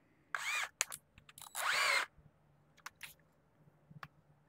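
A power drill whirs in two short bursts, the second longer, with a few clicks and light knocks between and after in a quiet room.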